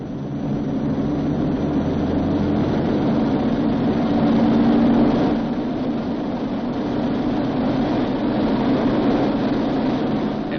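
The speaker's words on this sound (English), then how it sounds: "He releases the parking brake and adjusts the engines for full military power." Boeing B-29 Superfortress engines run at full military power for takeoff, a loud, steady, droning roar that swells briefly midway and holds on without pause.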